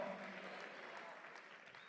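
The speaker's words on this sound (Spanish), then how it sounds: "Póngase de pie y aplauda el nombre de Cristo Jesús." A church congregation standing and applauding during a Spanish-language sermon, a quiet, steady spread of clapping heard from a distance, with some background voices.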